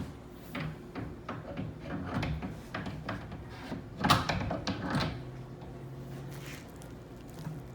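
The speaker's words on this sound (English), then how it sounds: "That bottom metal piece will slide into that on both sides, and you'll hear it click in." A cabinet drawer's bottom metal runner slides into an aluminum channel and clicks into place, giving a series of close rattling scrapes and knocks with a louder clunk near the middle, over steady room noise.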